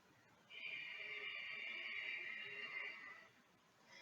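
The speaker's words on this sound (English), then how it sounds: "I'm not a huge fan of doing the strong Ujjayi breath in someone's ear." A long, steady breathy hiss of a strong Ujjayi yoga breath lasting about two and a half seconds, close and fairly quiet, like a strong constricted breath.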